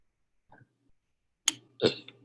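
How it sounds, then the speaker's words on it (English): A man gives a short burp during a quiet indoor healing session, with a faint throat sound first and then two closer bursts near the end. "I tend to burp when I'm moving energy."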